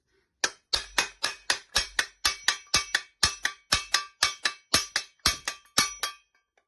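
A STIHL TS420 cut-off saw crankcase being struck to split it open, about twenty crisp metallic knocks in a steady, quick rhythm, close and ringing briefly after each hit, with no voices.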